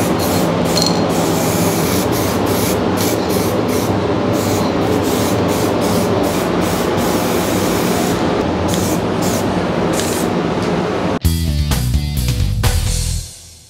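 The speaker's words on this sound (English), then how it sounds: "now we are applying some glossy black paint on it." Glossy black paint spray-painted onto car wishbones, a steady loud hiss of the spray gun running continuously with brief pauses, ending in a short burst of rattling clatter.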